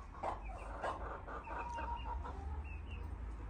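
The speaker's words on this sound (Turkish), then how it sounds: "Erkek horoz o." A young male rooster, still without full feathers, gives short clucking calls in a few bursts, moderately near but fairly quiet, with faint background noise.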